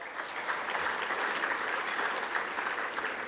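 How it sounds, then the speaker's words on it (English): Crowd applause at a football awards night, a dense, continuous wash of many hands clapping at moderate volume from a room of people. "So round of applause for Sarah and Steve as well."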